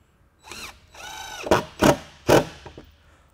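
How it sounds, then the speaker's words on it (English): A power drill drives 1¼-inch number 10 screws through a solar panel mount into an RV roof, with several short whirring bursts and sharp pulses spaced in quick succession, close and loud. "we're going to use 1¼" number 10 screws to screw the panel down with"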